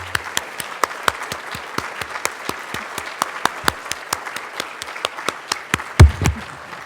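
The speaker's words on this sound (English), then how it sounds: "these folks are the ones who deserve a round of applause" At an awards ceremony for the humanities, an audience applauds board members. The clapping is sparse and distinct, with individual claps ringing in an irregular rhythm and a brief low thump near the end.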